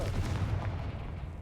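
Confringo fire spell blasts in Hogwarts Legacy, a dense, sustained rumbling burst of booms lasting over a second, loud and close with no talk over it.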